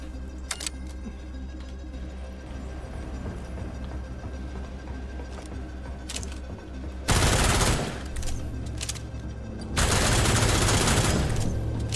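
Rapid automatic SMG fire from a P90-style gun in the shooter game Deadzone: Rogue, two loud sustained bursts standing out over a steady game background hum, with quieter ambience before them.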